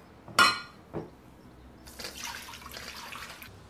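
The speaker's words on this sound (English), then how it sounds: "I'm going to strain the artichokes out of the lemon water." Water splashes sharply, then a longer stretch of lemon water pouring and trickling as baby artichokes are drained through a strainer, close by.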